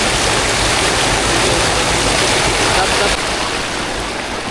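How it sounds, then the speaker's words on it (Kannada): Water of the Malaprabha river rushes and churns steadily at close range, a loud, dense continuous roar like a stream or small cascade that holds even for the whole stretch. "ಈ ರೀತಿ ಒಳ್ಳೆ ರೀತಿಯಲ್ಲಿ ನೀರು ಹರ್ಕೊಂಡು ಹೊಂಟೈತಿ ನೋಡ್ರಿ."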